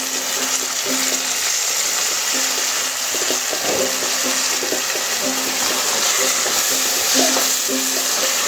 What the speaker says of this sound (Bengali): এই সবগুলো দিয়ে একটু ভালো করে নেড়ে নেব